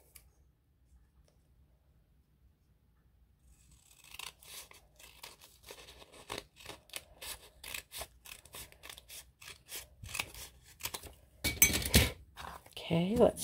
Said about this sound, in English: so I'm going to cut it down